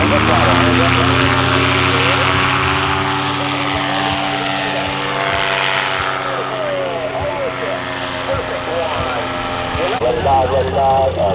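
Paramotor engine revving hard as the throttle is punched during a training flight, a loud, steady propeller drone that dips slightly then surges again near the end, with a voice speaking over it.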